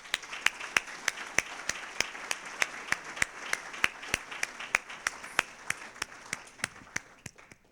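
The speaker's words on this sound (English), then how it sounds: "I'd like to give a round of applause to these people who have worked for the last 40 minutes" Conference audience clapping in a lecture hall, a fairly sparse round with distinct sharp claps in a steady rhythm over a softer wash of hands, fading out at the end.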